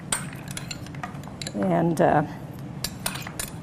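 Spoon stirring and folding potato salad in a mixing bowl, scraping up from the bottom: a short burst of clinking, scraping utensil-on-bowl sounds mid-clip, with a brief spoken word and light kitchen clatter around it.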